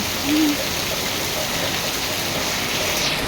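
Heavy rain with wind pours down steadily as a dense, continuous hiss at moderate level, with a faint voice briefly near the start.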